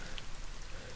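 Rain falling in the survival game The Forest, a steady dense hiss of drops that stays constant and moderately loud with no other sound standing out.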